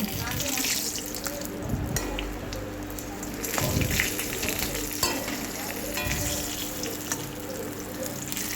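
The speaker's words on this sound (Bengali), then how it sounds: "মাছের তেলে সবজিটা দিয়ে দিয়েছি ঝিঙে সজনে ডাঁটা আর বেগুন একটু লবণ দিয়ে ভেজে নেব" Ridge gourd, drumstick and eggplant frying in oil left from frying rohu fish, a loud busy sizzle with spatula stirring and a running-water-like hiss, while a person talks over it.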